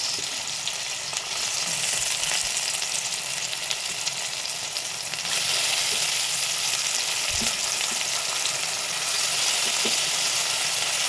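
Potatoes and vegetables for pulao fry in a pressure cooker, sizzling continuously and loudly up close, with occasional stirring clinks.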